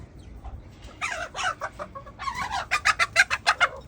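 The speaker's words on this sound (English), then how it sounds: "Hey, you crazy birds. Look at all you birds." Pet chickens clucking close by, a series of short, loud, rhythmic clucks that speed up into a quick run of calls, with no talking over them.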